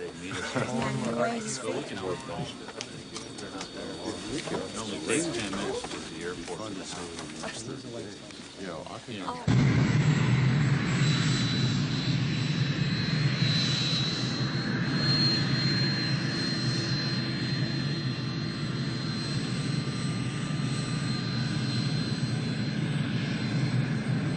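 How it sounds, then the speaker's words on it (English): A Delta jet airliner at Fort Lauderdale in a 1989 film scene: a loud, steady engine roar builds and holds for over twenty seconds, with radio chatter and cabin talk over it at first before the engines take over. "Delta 191 Heavy, you are cleared for takeoff."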